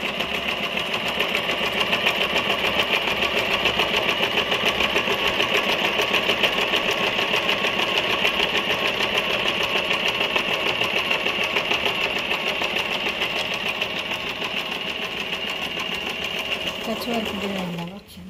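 An Usha Janome sewing machine stitches at a steady pace, its close, loud, rapid mechanical chatter running continuously before slowing to a stop at the end. A voice talks over the machine.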